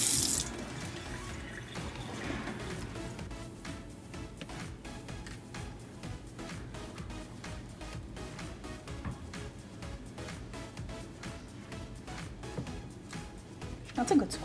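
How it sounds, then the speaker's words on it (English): A kitchen tap runs steadily as a knife is washed beneath it, a continuous hissing stream of water lasting throughout, with a voice heard faintly over it. "Let's wash the knife."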